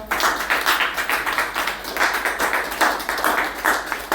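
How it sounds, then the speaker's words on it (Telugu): Elderly residents at the Amma Seva Sadanam ashram in Aswaraopeta clap together as a group, a steady rhythmic burst of hand claps sustained throughout, close and fairly loud, with no speech over it. "అందరూ ఒకసారి క్లాప్స్ కొట్టండి ఫస్ట్"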